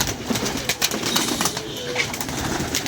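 Pigeons coo in repeated soft, low calls from a rooftop flock, with occasional wing flaps and a little background noise throughout.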